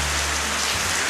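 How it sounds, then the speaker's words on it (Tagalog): Heavy rain falls steadily, a dense unbroken hiss of drops striking surfaces, close and loud with no voices. "Pero, guys, malakas. Umuulan. Umuulan ngayon, guys."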